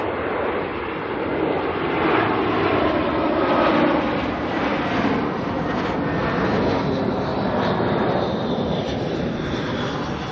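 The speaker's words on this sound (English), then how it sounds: "We've got a 320 coming in from Christchurch" An Airbus A320 airliner arriving at Auckland Airport from Christchurch gives a loud, sustained jet roar that swells slightly and holds steady throughout, broad and rumbling with no speech.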